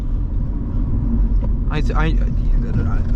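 Steady low rumble of a Honda Civic EP2 engine from inside the car during quick shifting, continuous and close, with a brief burst of voices midway.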